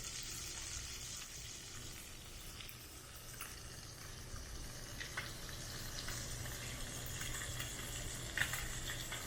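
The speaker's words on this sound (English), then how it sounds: "we can really make sure we get a nice crusty sear on the top of our tilapia" Tilapia fillet searing in a hot pan, a faint, steady sizzle and crackle that continues evenly throughout, with a soft low hum underneath.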